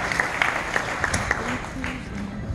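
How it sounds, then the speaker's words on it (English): Audience applause at a charity gala, a brief burst of moderate clapping from the crowd, fairly even for a couple of seconds with no talking over it. "So let's give a round of applause."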